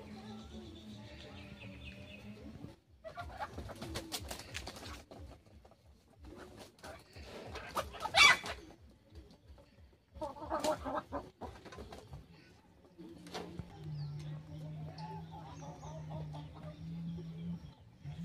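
Chickens cluck and call nearby as they are fed at a rural home, scattered clucks rising and falling with some handling noise, and a steady low hum in the final seconds.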